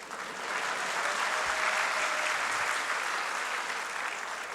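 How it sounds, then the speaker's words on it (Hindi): Boys in an audience clap and applaud together, producing a dense, sustained roar of many hands that holds steady and loud from start to finish without speech. "इस बात पे लड़के तालियां बजा रहे हैं।"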